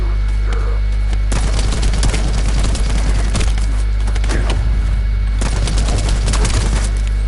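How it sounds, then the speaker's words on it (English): Gunfire in the looter-shooter game The First Descendant: rapid volleys of shots over a constant low background hum, arriving in several dense clusters with short gaps between them, loud and close, no speech. "There's someone shooting me."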